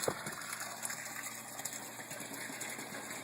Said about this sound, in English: water pumping in from the sump